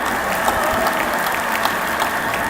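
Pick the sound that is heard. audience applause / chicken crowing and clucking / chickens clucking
audience applause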